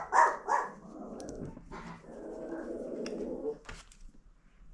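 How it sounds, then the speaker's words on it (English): Several dogs bark indoors in a home sewing room, two loud sharp barks up front followed by softer, more distant yapping over a steady background. "Sorry about the dogs."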